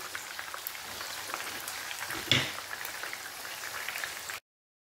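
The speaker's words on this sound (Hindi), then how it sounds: "इसे कबाब डाल दें आप और इसको ज़्यादा तेज़ आंच पर फ्राई मत कीजिएगा" Minced beef kebabs sizzle in hot oil over moderate heat, a steady, close crackling hiss running unbroken with one brief louder pop midway, then cutting off abruptly.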